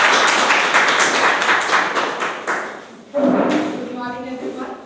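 Audience applause at a Speak-A-Thon meeting, a dense patter of many hands clapping loudly for about three seconds, then fading out as a voice begins speaking over the last claps.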